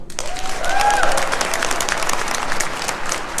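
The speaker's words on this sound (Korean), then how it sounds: "우리 부끄럽지 않은 사람들이 박수 한번 해요." A crowd at a Korean political rally for labor issues breaks into applause, a dense sustained wash of clapping, loud and close, with a few voices calling out over it.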